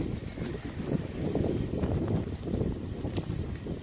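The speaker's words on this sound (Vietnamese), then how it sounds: "Gió rất là to ở ngay gần biển các bạn nhá." Strong wind near the sea roars steadily and buffets close to the microphone, a dense low rumble with gusts rising and falling throughout.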